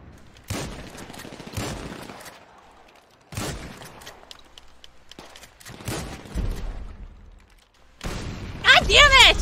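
Bursts of gunfire from a GTA 5 team deathmatch, several sharp volleys spread across the scene with a louder cluster near the end, mixed with other game noise.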